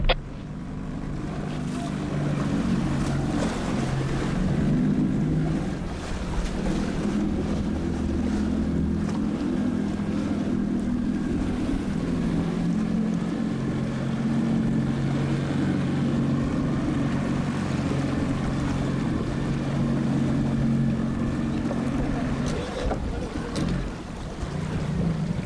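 A rescue boat maneuvers at sea during a man overboard exercise, its engine a steady low drone under heavy wind buffeting and wave wash, continuous and close for the whole stretch.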